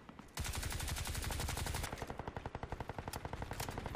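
Rapid automatic gunfire in the Crysis 2 video game, a loud sustained burst followed by fast evenly spaced shots, close and continuous with no talk.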